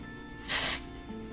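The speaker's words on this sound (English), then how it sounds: "lift them up and spray some texturizing spray in" A texturizing spray can sends one short, sharp hissing burst into a lifted section of hair, up close and alone against a quiet room.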